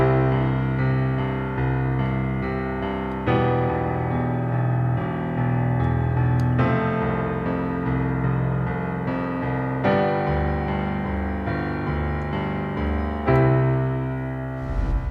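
Piano playing flowing broken-chord arpeggios over steady low left-hand fifths, a continuous solo passage with a clear pause and restart partway through, no voices.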